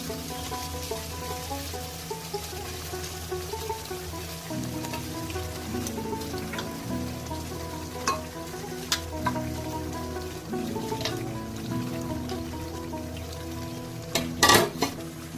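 Mutton goes into sautéed masala in a kadai and fries, making a soft continuous sizzle with scattered clinks and scrapes of a spoon against the pan, plus a sharper clatter near the end.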